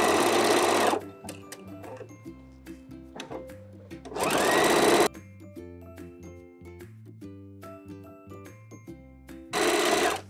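A sewing machine stitches fold-over elastic onto underwear in three short, loud, close bursts of rapid mechanical whirring, with quieter clicks, taps and handling noises in between.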